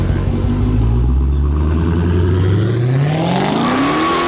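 A Dodge Challenger Hellcat Redeye engine revs loudly and close, its deep roar climbing steadily in pitch as it accelerates over a few seconds.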